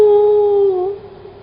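A voice imitates a frightened dog howling: one sustained, wavering howl, loud and close, that slides slightly and fades toward the end.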